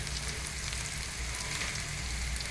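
Onion and chili frying in hot oil in a home kitchen, a steady close, continuous sizzle and crackle with a low hum underneath, no voices.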